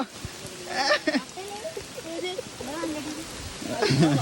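Steady rain patters and splashes in the background of a forest trail while several people talk nearby.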